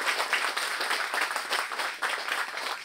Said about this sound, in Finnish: Annetaan aplodit tälle kakkosryhmälle.